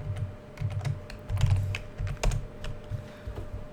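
Java code is typed on a computer keyboard, with a rapid, irregular run of close key clicks and occasional louder strikes, heard alone with no talk.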